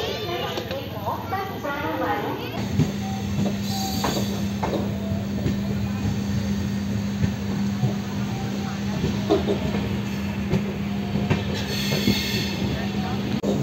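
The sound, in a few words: Podhigai Superfast Express train running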